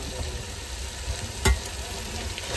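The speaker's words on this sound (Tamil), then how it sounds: "சிக்கனை போட்டுட்டு அதுக்கப்புறம் அதை போட்டு வதக்குங்க, நல்லா இருக்கும்" Chicken and ginger sauté in a hot pan with a steady, close, loud sizzle. One brief clatter of stirring cuts through partway.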